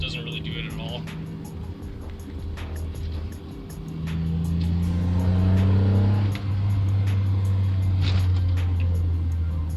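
A Honda CR-V with an aftermarket exhaust and exhaust valve drives along, its engine note rising from a low rumble to a steadier, louder drone under cruising, while someone talks over it.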